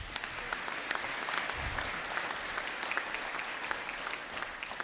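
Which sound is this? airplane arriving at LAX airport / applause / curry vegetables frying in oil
applause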